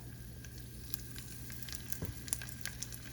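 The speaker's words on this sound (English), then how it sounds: "I'm going to place these in the pan and just let these pan fry until they're golden brown on one side." Pieces of food pan-fry in oil in a skillet, a quiet steady sizzle with scattered soft pops and crackles, close and faint, with no talk.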